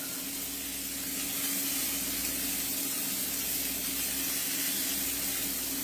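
Scallops searing in a hot pan give a steady, loud sizzle with a broad hiss that runs unbroken through the whole stretch, with no talking over it.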